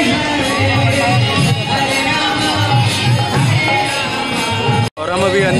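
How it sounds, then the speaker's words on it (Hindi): A dense crowd packs the ISKCON temple in Delhi during its boat festival, filling the space with a loud, continuous babble of many voices and occasional shouts. "यहाँ जबरदस्त भीड़ हो रखी है"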